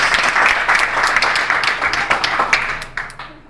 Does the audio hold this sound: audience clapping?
yes